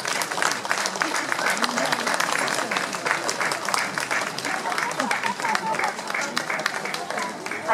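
Outdoor crowd applause rises for a costumed shogun figure at the Shimo-Nerima-juku festival procession in Japan, dense continuous clapping from many spectators with voices mixed underneath.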